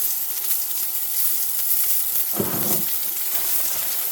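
Bacon dropped into a hot pan while cooking at the roadside: a steady high hiss of frying underlies everything, with a brief louder sputtering burst as the rashers hit the fat.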